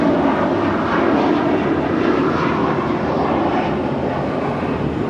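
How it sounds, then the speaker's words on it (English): An Air Canada A321 airliner roars loudly on departure from LAX, a dense, steady engine rush filling the air with only a brief word spoken at the start. "This is Air Canada 790 departing to Toronto on an A321."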